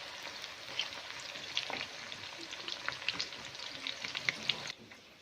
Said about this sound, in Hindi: 1 कप घी में प्याज को हल्का सा ब्राउन कर लेते हैं।